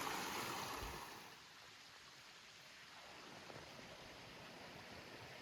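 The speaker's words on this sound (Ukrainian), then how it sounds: "Ще струмочок." Soft, steady rush of flowing water from a small forest stream in the mountains, faint and continuous with no voices.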